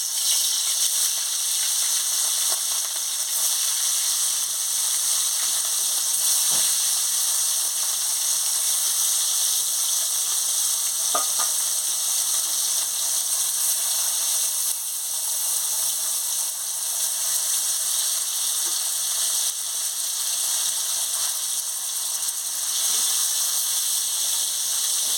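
Rohu fish fries in hot oil with a continuous, even hiss that holds steady for the whole stretch, broken only by a few faint clicks; no one speaks.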